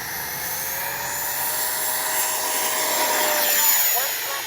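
A Freewing 90mm F/A-18C RC jet roars as it takes off, a steady high-pitched ducted-fan whine rising slightly in pitch, heard from a moderate distance.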